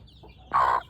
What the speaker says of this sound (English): Big old serious yard hen.